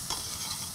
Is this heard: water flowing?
no